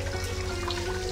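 Water poured for washing hands at a street-side purification basin along an old shopping lane, a faint steady trickle and splash heard close by with a quiet background hum.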